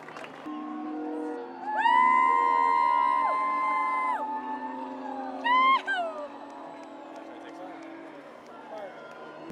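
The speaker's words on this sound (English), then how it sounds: "One by one, the canoes arrive and the crews are greeted by the crowds." Crowds greet voyaging canoe crews arriving one by one, with long rising whoops and drawn-out cheers and calls that swell and fade over a murmur of people talking.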